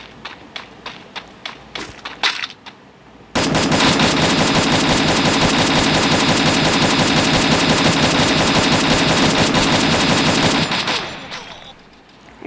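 Gunfire from a gun in the video game Free Fire starts as several separate sharp shots, then turns into a long, loud, rapid automatic burst lasting about seven seconds before fading out.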